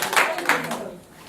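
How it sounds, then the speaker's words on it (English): Classroom audience clapping for the East Coast group, a short burst of several pairs of hands that fades within about a second, heard close and moderately loud. "Everyone clap up for the East Coast"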